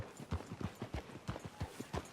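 Hooves of a horse in Red Dead Redemption 2 clip-clop in a steady, quick rhythm at moderate volume, a continuous trot of repeated muffled thuds with no voices.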